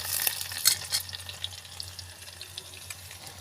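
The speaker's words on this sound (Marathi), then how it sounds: "आता आपण त्यामध्ये लसूण जिरं टाकूया" Garlic and cumin dropped into hot oil in a pan for tarri pohe, giving a loud sizzling fry with a sharp crackle at the start that settles into a steady hiss, with no talking.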